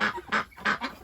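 Geese and ducks honk loudly at close range, four rough, nasal calls in quick succession with no talking over them.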